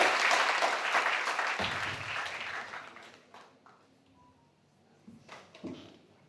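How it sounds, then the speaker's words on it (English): Conference audience applause greets the first speaker at a sustainability event, strong dense clapping at the start that thins and fades, leaving scattered claps, shuffling and a few knocks near the end. "Please give applause for our first speaker"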